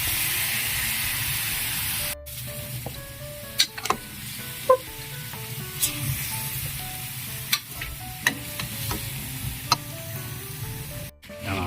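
Pork with garlic, onion and red chili sizzling and frying in a pan, a steady crackle of hot oil with occasional sharper pops and stirring scrapes, close and fairly loud.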